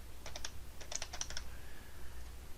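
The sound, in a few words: typing on a computer keyboard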